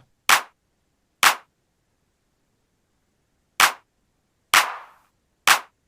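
Five sharp clap samples with reverb in Ableton, spaced unevenly with a long gap in the middle, each a crisp dry-edged hit followed by a short reverberant tail, alone and fairly loud.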